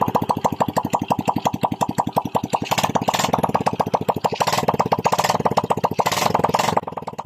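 A Honda XRM 110 motorcycle engine, just reassembled with its block and cylinder head, fires up and settles into a loud, close, rapid and steady idle thump, with a few brief revs partway through.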